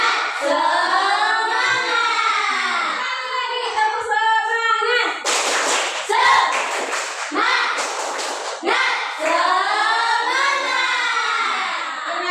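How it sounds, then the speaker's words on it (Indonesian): A classroom group in a Catholic religious education lesson does a rhythmic chant-and-clap routine: loud voices chanting together, broken by bursts of quick, close unison clapping. "Tepuk semangat"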